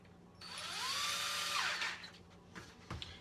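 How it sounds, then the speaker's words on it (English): A power drill whirs up, runs for about a second at steady pitch, then winds down, followed by a few clicks and a thump. "then I take my drill, get it prepped"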